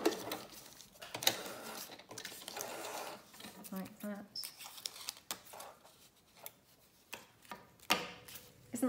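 Sewing machine running a straight stitch in short stop-start bursts of rapid mechanical ticking and whirring, fairly quiet and close, with small handling clicks between runs.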